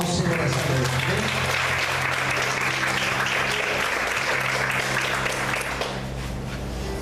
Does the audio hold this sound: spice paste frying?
no